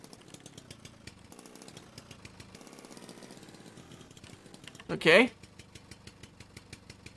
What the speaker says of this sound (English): Probably have to shut down the engine.